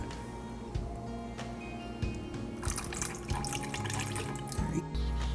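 Liquid pouring and splashing into a container close by, with a continuous trickle and small bubbling sounds.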